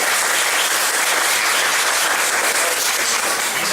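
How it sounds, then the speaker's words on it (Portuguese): Thick, continuous applause for a choir at a seminar, a full room clapping at a steady, loud level for the whole stretch. "Uma salva de palmas pro coral"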